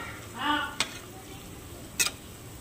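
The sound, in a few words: lentil and poppy seed fritters flipped and frying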